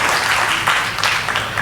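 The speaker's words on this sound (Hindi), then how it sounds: "जोरदार तालियां एक बार चेतन चर्चित के लिए।" An audience at a comedy poetry gathering in a society hall breaks into brief, dense applause, a close wash of many hands clapping together without pause.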